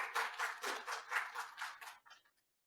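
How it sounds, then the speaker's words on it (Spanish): Brief, fairly quiet burst of audience clapping at an academic event at a university faculty, a few seconds of scattered hands that thins out and stops. "Démosle un aplauso, por favor."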